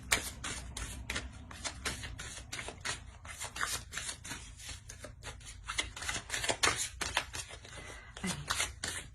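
Tarot cards being shuffled by hand close to the microphone, producing rapid bursts of papery flicks and soft slaps in an uneven, busy rhythm for about nine seconds.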